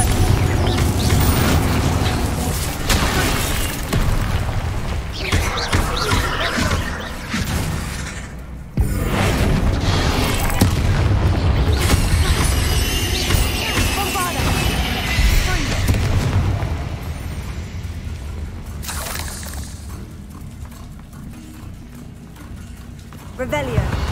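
Repeated Confringo blasting-curse explosions in the video game Hogwarts Legacy, loud booming blasts and crackling bursts in quick succession over dense game effects, with a voice shouting spell names between them.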